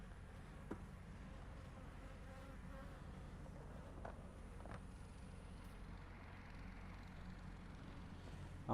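Honeybees buzzing around hive frames in an apiary during a swarm transfer, a continuous low droning hum, faint and steady, with no talk.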